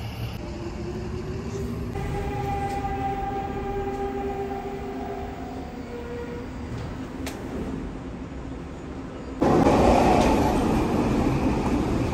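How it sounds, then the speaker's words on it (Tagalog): A passenger train in Vancouver on a busy holiday weekend rumbles steadily up close, with a tonal whine from the rail motors, then a louder burst of rushing noise near the end; no talking. "I'll take the train now."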